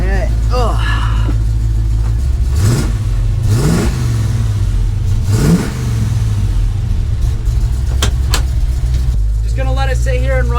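A car engine idles in a driveway to charge its battery, a low steady rumble underneath with a few brief surges, while people talk over it at close range.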